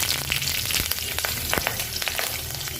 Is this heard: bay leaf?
yes